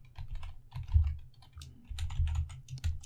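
Fingers tap out a command on a computer keyboard in a quick run of clicky keystrokes, close and distinct, with short gaps between bursts and no talking.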